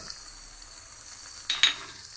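Spice paste with turmeric frying in a pan for a Bengali mustard fish dish, a soft steady sizzle that surges briefly near the end with a short clink or stir.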